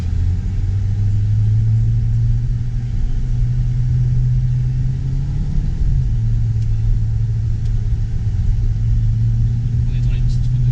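A Mercedes CLA45 AMG in Sport Plus mode, paddle-shifted along narrow country roads, gives a steady loud low engine drone heard from inside the cabin, with a brief pitch rise and dip around a gear change.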